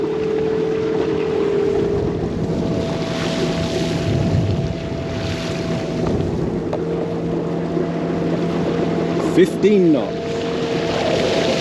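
Overboat electric personal foiling boat at full speed on open water, a steady low hum with strong wind buffeting the microphone throughout, while someone talks over it.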